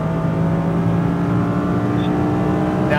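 An Audi R8 V10 on a track gives off a steady, loud engine drone with a constant mechanical hum, recorded from inside the car and holding an even pitch throughout, with no voices.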